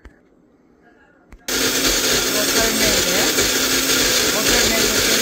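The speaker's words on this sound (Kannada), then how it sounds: "ಇವಾಗ ಗ್ರೈಂಡ್ ಮಾಡಬೇಕು, ಇನ್ನೊಂದು ಚೂರು ನೀರು ಹಾಕ್ಬಿಟ್ಟು" A mixer grinder blending roasted chana dal, coconut and tamarind into chutney with a little water, starting abruptly after a quiet pause with a couple of clicks, then a loud, steady, high-pitched whirring roar.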